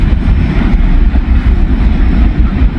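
A train passes close by the tracks as a loud, heavy, continuous low rumble of wheels and engine, steady throughout with no voices.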